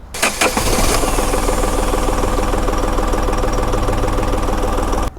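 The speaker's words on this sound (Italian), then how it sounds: "gli diamo l'ok, avviamo il motore" A car engine cranks briefly during a battery starting-load test, then catches and settles into a steady, loud idle that runs close by for several seconds.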